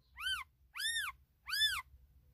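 Newborn kittens in a car give three clear, high, falling meows, evenly spaced and close, with a faint low rumble underneath and no talking.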